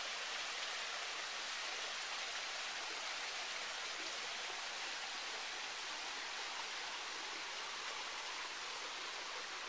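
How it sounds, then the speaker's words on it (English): Continuous broadband rush of a creek flowing through Camp Sugar Pine, a steady even wash of water close to the microphone with no talking. "Here we have the creek that runs through Camp Sugar Pine."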